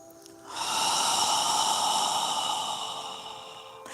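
A single long, audible breath is drawn during yoga practice, rising sharply after a brief quiet moment and holding steady with a breathy hiss before slowly fading, close and clear.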